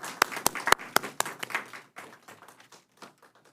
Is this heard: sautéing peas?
no